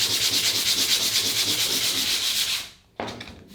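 Quick sanding pass over a finished weld on a Subaru engine swap: a close, loud rhythmic rasping scrub for about two and a half seconds, a brief pause, then a short final stroke.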